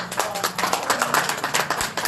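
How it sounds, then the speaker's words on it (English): A crowd at an awards dinner applauding, a dense wash of many hands clapping steadily and fairly loudly for a couple of seconds with no talk over it. "So give a warm applause to Dr. Moses."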